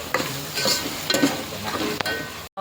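Chopped tomatoes stirred into browned onions frying in a pan for a panchratna dal gravy. Steady close sizzling with scraping stir strokes and a few clatters of the spoon, with no talking.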